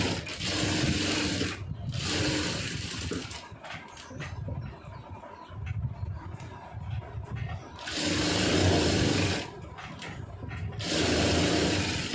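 A sewing machine stitches a lining blouse in three loud, steady runs, each lasting a few seconds, with quieter pauses of fabric handling and mechanical clicks between them.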